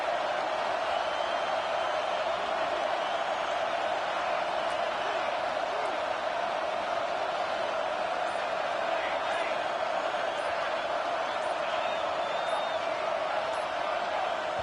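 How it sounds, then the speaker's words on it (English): A packed football stadium crowd roars in a steady, unbroken wall of noise throughout, loud and continuous with no distinct individual voices. "with this place rocking, the crowd forces a false start"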